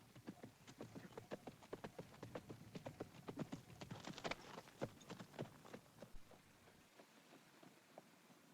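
Steady rhythmic clip-clop of a horse's hooves during a ride at a walking pace, fairly close and continuous, fading out near the end.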